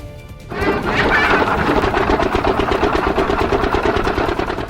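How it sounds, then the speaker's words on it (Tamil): Mill machinery kicks in after a moment of quiet and settles into a loud, continuous mechanical drone with a rapid rattling pulse. "ஒருவேளை அங்கிருந்து பேசினா அந்த சத்தம் மில்லுல இருந்து பேசுற மாதிரி கேட்கும்ல."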